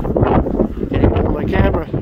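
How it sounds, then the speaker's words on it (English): Strong gusts of wind buffet the microphone in heavy, rumbling bursts during a farm wheat and canola harvest, with no other clear sound coming through. "It is windy today."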